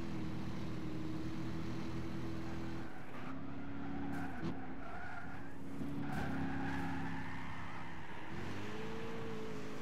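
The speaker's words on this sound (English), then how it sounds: "Drifting in the dirt with two-wheel drive." Gran Turismo 6 car drifting through dirt with two-wheel drive in a rally-style race: loud, steady engine drone with rising and falling revs and tire skid squeals throughout.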